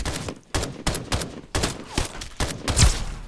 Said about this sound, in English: That sounds like a much bigger, badder gun than what we're currently using.